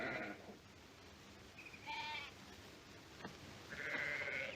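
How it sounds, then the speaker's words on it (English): Sheep in a flock being driven off ranch land in a western TV drama give three distinct bleats, spaced a second or two apart, over a low outdoor background. The bleats are fairly clear but not close. "let's get those sheep on the move"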